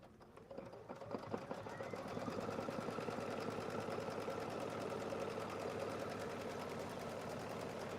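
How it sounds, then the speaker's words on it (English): A sewing machine runs a steady stitch that sets a quarter-inch seam along folded fabric edges, a fast, even mechanical whirr that builds and then holds constant, close and alone. "it's going to stitch, and it will put in that 1/4 inch for me automatically"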